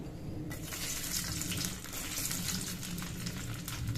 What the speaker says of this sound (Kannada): ತೊಂಡೆಕಾಯಿನ ಸ್ವಲ್ಪ ಶಾಲೋ ಫ್ರೈ ಮಾಡ್ಕೋಬೇಕು ಈಗ ತೊಂಡೆಕಾಯಿನ ಹಾಕೋತೀನಿ